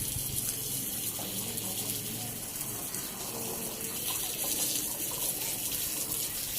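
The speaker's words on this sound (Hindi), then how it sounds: "पानी का प्रेशर भी कम है।" Water runs steadily from a tap in a Pakistani village home, a continuous close gushing and splashing that stays even throughout.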